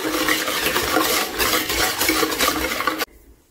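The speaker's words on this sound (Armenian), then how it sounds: "եւ նորից խառնում ենք" Cookie dough for Easter nest cookies is stirred after melted butter goes in, giving a loud, dense, continuous scraping and squelching close by for about three seconds before it stops abruptly.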